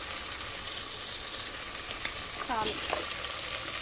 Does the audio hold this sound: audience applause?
no